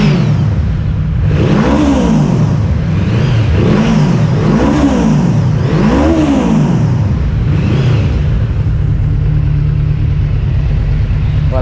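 A Yamaha VMAX 1700 motorcycle engine, heard up close, revs repeatedly in rising and falling throttle blips over a steady, rumbling idle, with no talking.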